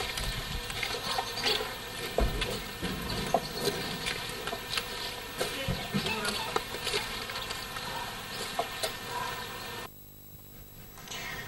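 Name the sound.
honeybee buzzing near beehive honeycomb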